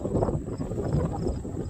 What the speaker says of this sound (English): it's a little windy out, but that's how it always is